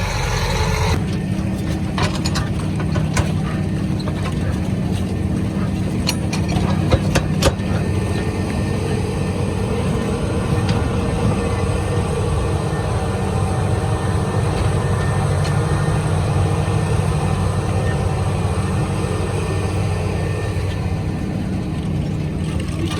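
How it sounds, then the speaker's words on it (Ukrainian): A tractor pulling a cultivator while preparing a field for sugar beet sowing gives a steady, loud engine drone with low rumble that runs unbroken throughout. "Все, сідаємо трактор далі."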